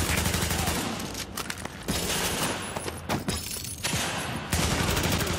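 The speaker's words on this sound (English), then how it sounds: "Reporting gunfire in the station above us." Gunfire erupts inside Grand Central Station in The Division, Xbox One gameplay: a dense, loud fusillade of overlapping shots and sharp impacts, with bursts and brief gaps recurring steadily through the stretch and no voices over it.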